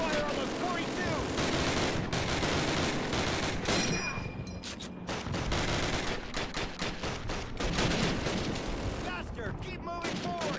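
Dense video game battle gunfire with rapid automatic bursts and repeated shots layered over explosions, loud and continuous throughout, with a voice shouting over the combat at times.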